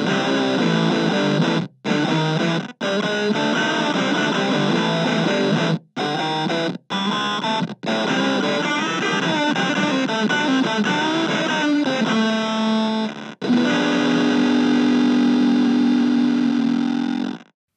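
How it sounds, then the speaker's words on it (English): Electro-Harmonix Mainframe bit crusher pedal with input gain at maximum and fixed bit crushing set for gated fuzz: harsh, buzzy distorted guitar phrases that chop off abruptly into silence between notes, loud and alone, ending on a sustained gritty chord. "we've switched to a fixed bit crushing for a gated fuzz."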